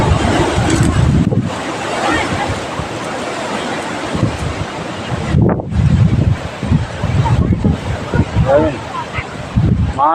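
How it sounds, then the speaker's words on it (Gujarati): Strong gusty wind blows outdoors during a storm with rain, roaring and buffeting the microphone in loud surges that ease briefly and return, with a person talking over it. "એટલો પવન એમ ઘડીક માંડ ધીમો પડે તો પાછો આવી જાય એટલો પવન"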